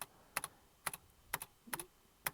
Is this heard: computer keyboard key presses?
yes